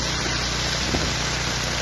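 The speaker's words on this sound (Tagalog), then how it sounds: "Kaya lang, sobrang lakas ng ulan." Heavy rain pours onto a highway as a dense, steady hiss that stays loud and unbroken throughout, with a low rumble underneath.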